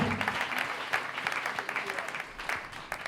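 A church congregation applauding, a dense steady clatter of many hands clapping with some voices mixed in, sustained across the whole stretch.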